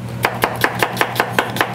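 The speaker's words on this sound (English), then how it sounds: "I'm just going to kind of do a rough chop on this" A knife rough-chops a peeled onion on a cutting board: nine crisp, evenly spaced thuds about every fifth of a second, loud and close, with no voices.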